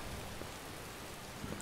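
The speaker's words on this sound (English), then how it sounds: "Not only is it dark, but it's raining." Steady rain in the Skyrim video game falls as a continuous, even hiss over a dark outdoor scene, with scattered soft drop patter and no voices.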